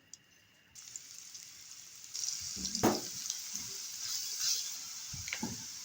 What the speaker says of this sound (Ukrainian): Спочатку обсмажую цибульку.